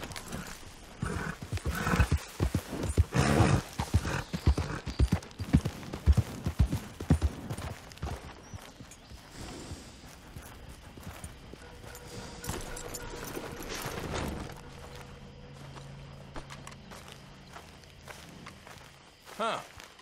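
Horse galloping in Red Dead Redemption 2, rapid hoofbeats loud and close for the first half, easing off as the ride settles, with a brief shout from the rider near the start.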